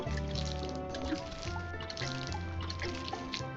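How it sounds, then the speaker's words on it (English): Crops being watered in the farming game Grimshire, a soft watery pour layered over steady game music with chiming melodic tones, continuous for a few seconds. "But we're gonna water all these little guys."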